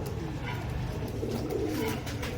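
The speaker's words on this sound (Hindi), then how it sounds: "ये देखो दोस्तों, ये नईम भट्टी साहब के हैं, ये सोने का कबूतर" A golden pigeon coos softly and repeatedly at close range over a steady background hum, with no talking.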